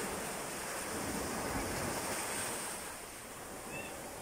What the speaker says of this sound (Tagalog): hampas ng niya, yung huni ng alon niya